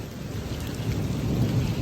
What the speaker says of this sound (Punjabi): ਦੇਖੋ ਜੀ ਦੇਖੋ ਬਾਰਿਸ਼ ਫੇਰ ਸਟਾਰਟ ਹੋ ਗਈ